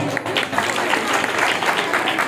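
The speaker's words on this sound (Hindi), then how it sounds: "एक बार निकले जोरदार तालियां।" Enthusiastic audience applause at a Hindu devotional katha gathering in honor of a pandit, dense steady clapping filling the whole stretch at a fairly loud, even level.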